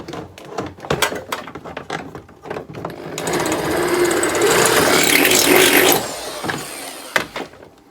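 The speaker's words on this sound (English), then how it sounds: "we just got to run the drill up and sort it out" A power drill runs up while fitting a Mitsubishi Evo IX front bumper, with a few seconds of loud continuous high whirring between short tapping and rattling handling sounds.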